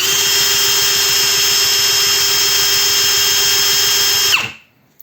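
A DEVETECH CIS 120 cordless drill runs in drilling mode at first speed, a loud steady high whine held for about four seconds before it cuts off and winds down to silence.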